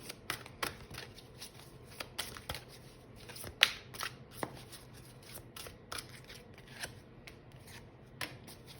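Tarot cards are shuffled and pulled from the deck, giving a steady run of crisp close snaps, flicks and light rubbing, alone and fairly quiet.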